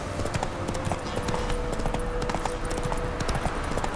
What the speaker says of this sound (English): Oh, that's my horse.